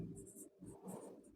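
Soft pen or chalk strokes writing out a Class 10 linear-equations math problem, a few faint scratchy strokes over a low steady room hum.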